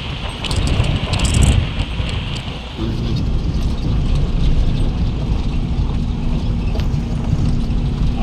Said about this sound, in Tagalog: Mahangin po kasi pag nilabas ko.